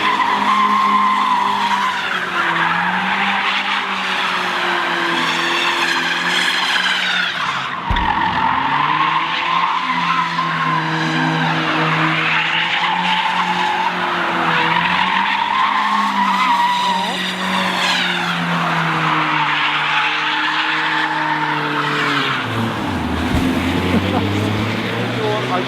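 A BMW 316 E36 drifting on a street, its engine revving hard while the tires screech in long continuous squeals that rise and fall with the throttle, loud and close throughout.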